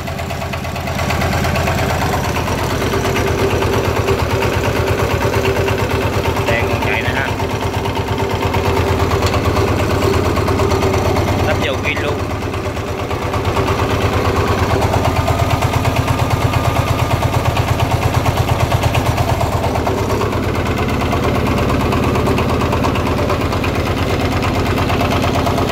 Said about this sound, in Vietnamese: Máy chạy rất là ok ha.